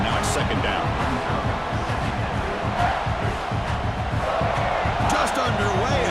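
Home stadium crowd roaring in EA Sports College Football 26, a dense continuous cheering wall with thumps and shouts underneath, while a commentator talks over it.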